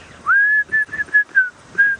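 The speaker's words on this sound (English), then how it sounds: "I always find if you whistle and go past, they ignore you." A person whistles outdoors on a safari drive, a rising note and then a run of short, clear, evenly spaced whistled tones, close and fairly loud.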